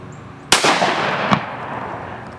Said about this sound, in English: If you squeeze, it shoots.